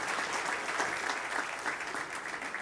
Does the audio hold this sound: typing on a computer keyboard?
no